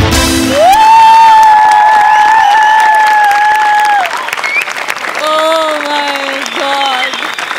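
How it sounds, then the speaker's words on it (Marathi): A studio audience for a Marathi comedy show applauds, loud and sustained at first, then the clapping eases under a long held musical tone and a second tone that follows, with some cheering mixed in. "दोन्ही हास्यरसिकांनी उभे राहून टाळ्या वाजवल्यात."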